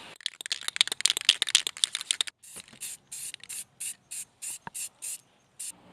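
Aerosol spray paint going onto a welded steel socket: a scratchy rattling stretch first, then a run of short, evenly spaced spray bursts with brief gaps between them, close and fairly quiet.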